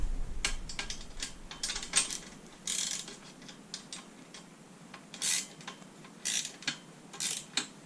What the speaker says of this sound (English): now I can tighten the rest of the bolts finally